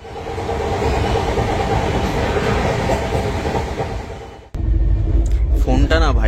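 Passenger train from Sealdah toward Dhanbad running at speed past Dakshineswar: a loud, continuous rumble and rattle from on board that briefly dips, then returns harsher with squealing tones, while a voice talks over it.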